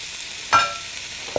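Chicken thighs hit a preheated non-stick pan with no oil, a single sharp close sizzle and clatter followed by a faint quiet fry and a short knock near the end.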